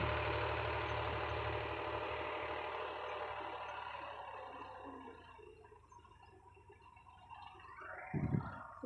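A tractor engine runs at a steady idle outdoors, a constant mid-pitched rumble that fades slightly before a brief louder knock near the end, with no talking.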